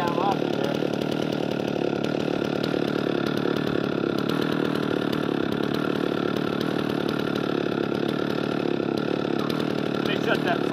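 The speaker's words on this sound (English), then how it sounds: "Let me shut that saw off. I like to just let it idle for a second." A chainsaw used for milling lumber idles steadily and continuously nearby, its engine drone unbroken and fairly loud throughout.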